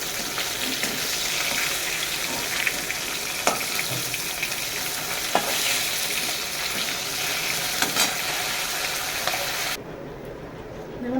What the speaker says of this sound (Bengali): একটা শুকনো লঙ্কার ফোড়ন দিচ্ছি